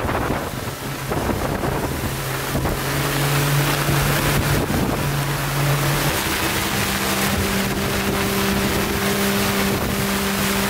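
Waves on Lake Ontario heard from a motor-driven fishing boat, with a steady engine drone under constant rushing water and heavy wind buffeting the microphone.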